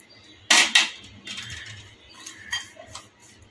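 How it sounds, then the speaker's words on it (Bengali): A spoon works peanut chaat with half a lemon's juice in a bowl, giving a few sharp metallic clinks and scrapes at irregular intervals between softer stirring sounds, close by and with no talking. "ভালো করে মেখে নিচ্ছি।"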